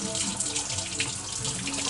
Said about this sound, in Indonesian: ini saya kuras dari hose water upper, selang radiator atas saya gelonggong ya